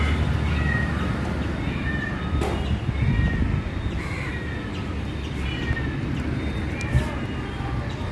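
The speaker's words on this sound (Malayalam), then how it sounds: "എവിടെയോ ഒരു പൂച്ചയുടെ കരച്ചിൽ കേട്ട്" A cat meows several times at a distance, drawn-out wavering cries over a steady murmur of background noise.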